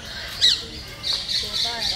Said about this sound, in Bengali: অনেক টিয়া পাখি, দেখতেই অনেক ভালো লাগতেছে।